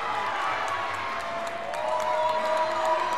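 Crowd cheering and clapping at a youth bouldering nationals final, a dense steady roar of voices with scattered whoops that swells toward the end.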